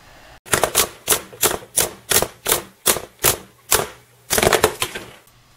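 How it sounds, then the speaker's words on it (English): Sharp percussive clatters on a computer keyboard being hit angrily, about a dozen hard strikes in an uneven rhythm, close and loud, with no voice. "So angry I could smash this keyboard up."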